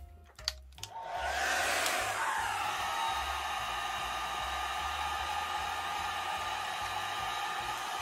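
A dryer blows steadily on alcohol ink artwork of a feather, a loud continuous whoosh that starts after a couple of soft taps and holds without a break.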